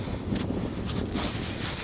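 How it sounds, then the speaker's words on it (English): Steady, low rumbling wind buffeting the microphone outdoors at Kyiv Fortress, with gusty broadband noise and faint rustling throughout, no voices. "Oh, it's windy. I hope that's not messing up the mic."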